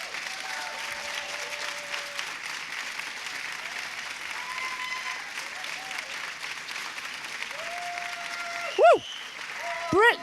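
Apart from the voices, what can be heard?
audience applause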